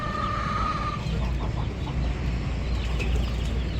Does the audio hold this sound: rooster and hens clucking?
yes